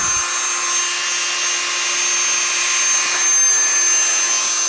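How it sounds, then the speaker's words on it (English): Dremel rotary tool grinding the outside edges of a small figure, a steady high-pitched whine held close and continuous for a few seconds, with no speech. "So I'm just going to take it down a little bit on the outside edges here, using my Dremel tool."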